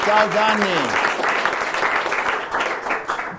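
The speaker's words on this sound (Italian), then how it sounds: "Un applauso allora Gianni di nuovo" Studio audience applause on an Italian TV sports program welcoming a guest back on the line, a steady clapping wash lasting throughout, with a voice speaking briefly over it at the start.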